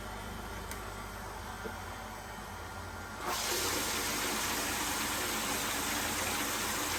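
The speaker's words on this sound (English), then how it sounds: "I need to get this pump turned back on" A koi garden pond water pump starts partway through, its rushing, gushing water noise jumping from a low background hum to a loud, steady roar that continues to the end.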